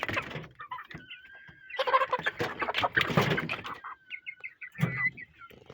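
Farm chickens cluck and squawk in agitated bursts while being caught, close and fairly loud with rustling and flapping between the calls.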